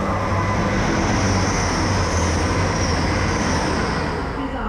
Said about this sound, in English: just in the nick of time for my train to arrive